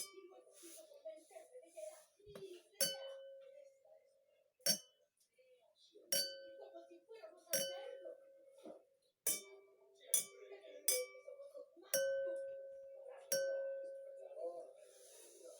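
A full glass of water is struck several times, each tap giving a bright, ringing tone that decays slowly. The strikes come at irregular intervals, mixed with faint breathing and small background sounds.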